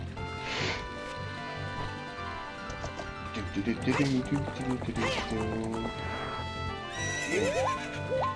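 A horse in the video game Zelda: Ocarina of Time neighs repeatedly with loud whinnies, along with clip-clop hoofbeats and bright game music and effects.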